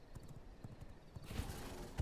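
Horse hooves clip-clop at a steady trot in the video game V Rising, a run of close, even, muted thuds with a couple of heavier hits near the end.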